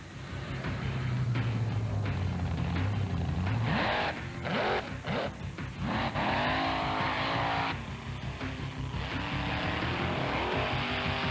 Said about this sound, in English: Monster Trucks doing their thing